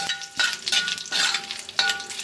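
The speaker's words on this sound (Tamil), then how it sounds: "இப்போ நம்ம கடுகு போட்டுக்கலாம், வேப்பிலை, இது தாளித்து" Mustard seeds and curry leaves sizzle and crackle in hot oil for tempering a South Indian chutney, a steady close frying hiss with a few sharp pops and spatters, no talking.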